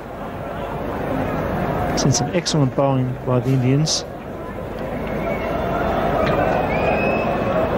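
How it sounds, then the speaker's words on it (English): Noisy crowd at a 1992 World Cup cricket match between India and Pakistan, a steady broad roar of spectators running throughout under a commentator's voice. "Noisy crowd."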